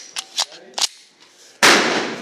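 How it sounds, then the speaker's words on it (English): A Glock pistol fired at an outdoor target, one sharp close shot near the end with a bright burst of noise after brief metallic clicks and handling sounds. "And we'll shoot 5 rounds with this."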